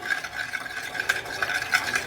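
A spoon stirs salt into water in a small bowl, making quick, repeated clinks and scrapes against the sides in a steady rhythm, close up and without speech.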